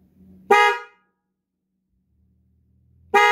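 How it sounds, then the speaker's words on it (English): A loud Honda GL1800 motorcycle horn blares twice, short blasts separated by a few seconds of near silence, each a dual-tone honk with a high and a low tone. "horns are extremely loud. It has a high and a low tone"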